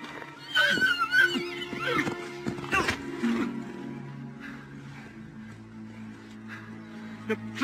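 A horse neighs and whinnies loudly up close in a few rising, quavering bursts, then its call fades into a lower, sustained tonal background.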